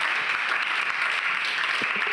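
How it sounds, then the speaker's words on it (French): Sustained audience applause at an innovation award ceremony, even and dense clapping from a room full of people without pause. "Sous les applaudissements nourris"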